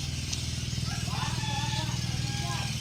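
A habal-habal motorcycle taxi engine putters at a steady, close, rhythmic idle in Ormoc City, while people talk over it.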